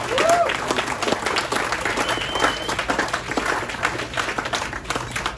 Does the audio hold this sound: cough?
no